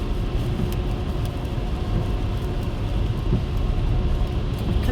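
Road traffic with slow trucks overtaking one another, a steady, dense vehicle rumble that runs unbroken throughout and carries no voices.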